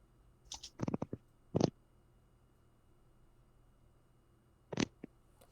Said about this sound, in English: I was busy typing.